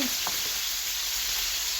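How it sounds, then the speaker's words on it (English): Food sizzles and fries in a skillet, a steady bright hiss filling the whole clip at close range with a few faint clinks, no voices. "Because I know sometimes that sizzling be doing this thing."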